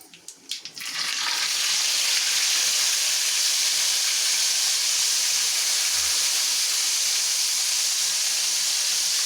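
Ginger garlic paste sautés in a pan for a Sunday special mutton curry, setting off a loud, steady hiss and sizzle after a few brief scraping knocks at the start, with no talk.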